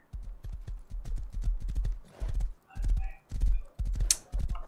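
Horse hooves clop steadily in the survival game Rust, a close, rhythmic gallop of repeated heavy thuds in short pulsing groups.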